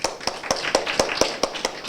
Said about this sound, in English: You give another big round of applause.